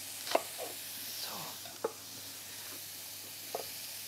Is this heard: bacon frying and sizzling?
yes